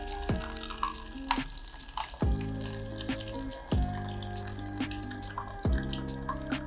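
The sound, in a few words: JMEY M2 portable dispenser pouring boiling water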